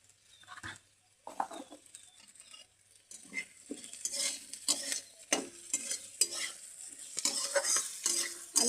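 Semolina and spices frying in a pan for breakfast upma at home, with a spoon scraping and stirring in irregular bursts and a soft sizzle underneath, growing busier toward the end; no voices.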